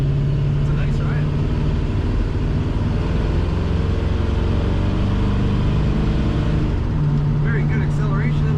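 A 1972 Chevrolet pickup on big wheels drives and accelerates, its engine humming in a steady, close tone that rises and shifts in pitch near the end, with faint cabin noise around it.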